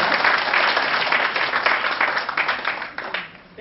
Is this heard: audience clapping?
yes